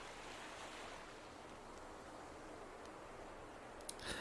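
Surf washing steadily onto a beach, a continuous broadband rush at moderate distance with light wind, and a brief brighter splash near the end; no voices.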